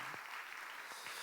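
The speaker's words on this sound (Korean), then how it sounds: "다시 한번 축복의 박수 하겠습니다" Steady applause from a church congregation at a Sunday service, a dense even patter of clapping that holds throughout, with a couple of faint low thumps.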